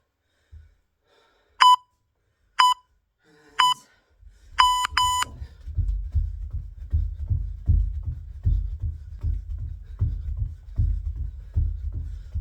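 Workout interval timer during a boxing fitness session gives four sharp electronic beeps about a second apart, the last one doubled, then steady breathing and movement noise continues underneath.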